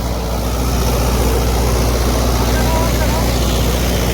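A Mahindra 585 tractor engine runs steadily and loudly up close, a constant rumbling drone with no pauses across the whole stretch.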